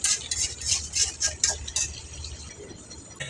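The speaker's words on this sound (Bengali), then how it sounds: "কষানো হয়ে গেছে, এখন লাড়া দেওয়া হবে।" A utensil stirs chicken curry in a pan, making quick, bright clinks and scrapes. They come in a fast, uneven rhythm, then thin out and fade after about two seconds.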